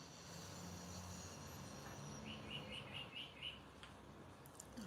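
Birds chirp and trill among trees outdoors, a short run of repeated tweets mid-clip plus faint scattered calls, distant and soft over a steady low breeze-like hiss.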